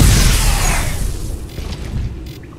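A loud explosion from the video game Crysis 2 opens with a heavy low boom that decays and rumbles for a couple of seconds, leaving fading debris-like crackle with no voices.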